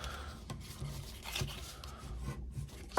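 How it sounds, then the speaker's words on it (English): Folded paper score lines being burnished for handmade craft tree decorations, soft close rubbing and rasping strokes repeated several times, faint and quiet. "just fold and burnish these score lines"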